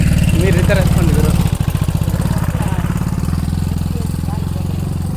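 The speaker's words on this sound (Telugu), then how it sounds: "బైక్ అయితే అసలు లాగట్లేదు" A motorcycle engine labouring on a road near Maha Loddha waterfall in Parvathipuram Manyam district, a loud close rhythmic chugging that drops in pitch and strains as it struggles to pull, with voices talking over it.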